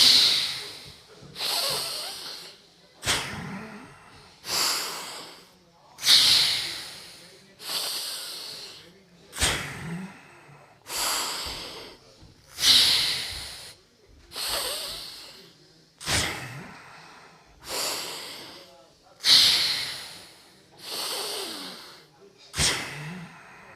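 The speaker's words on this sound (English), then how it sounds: "You breathe out and you do the shush sound" Repeated forceful shushing exhalations during a pranayam breathing exercise, about a dozen hissing breaths out at an even rhythm with short pauses between, close and clear.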